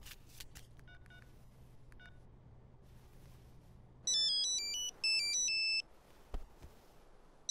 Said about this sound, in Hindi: हनुमंता का फोन, बात कर।